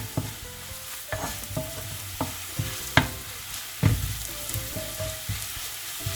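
A spatula repeatedly knocks and scrapes against a pan as spices sauté in oil for Kerala-style fish molly. The roughly evenly spaced taps sit over a low, continuous sizzle, close and fairly loud.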